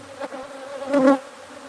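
Wild bees swarm and buzz during a beehive transfer: a steady, close, droning hum that swells louder for a moment midway, then settles back to a constant buzz.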